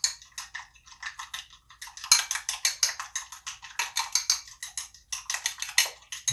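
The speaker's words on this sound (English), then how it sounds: "Stir those up." A utensil stirring egg yolks in a bowl for a soufflé, making quick rhythmic clinks and taps against the dish, close and clear, with no talk.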